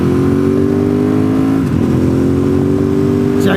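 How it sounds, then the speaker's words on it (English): Motorcycles riding together along US129, a loud continuous engine drone with steady tones and a brief shift midway, heard close up as if riding along with the group. "We get to go through here with the motorcycle gang."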